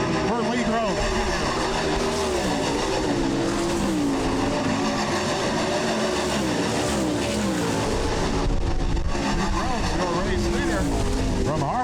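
Sprint cars, including an orange and white number 42, race around a dirt track in a weekly racing series. A loud, steady engine roar rises and falls as cars pass, with an announcer talking over it throughout.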